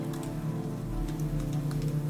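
Rain falling on a city street in a cyberpunk horror scene: a steady patter of drops over a low, droning hum that runs the whole time.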